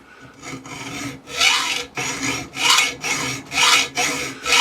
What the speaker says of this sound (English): I'm going to take my Armstrong Power hacksaw and cut a section of this off.